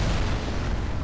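Deep rumbling from oversized spears slamming into the ground in Dark Souls III, a dense, loud, continuous roar of low booming impact with no voices over it.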